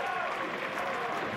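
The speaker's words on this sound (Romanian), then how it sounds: "Aplauze" A stadium crowd at a Farul versus FC Argeş football match applauds as medics leave the pitch, a dense, steady wash of distant clapping and crowd noise under a commentator's voice.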